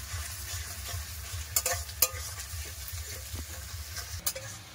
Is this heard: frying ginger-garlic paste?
yes